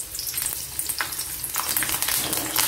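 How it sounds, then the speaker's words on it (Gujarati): Slit green chillies frying in hot oil, a loud, close, crackling sizzle with bursts of spattering that swell and fade, continuous and without any talking. "હવે મરચાંને તેલમાં મૂકીશું"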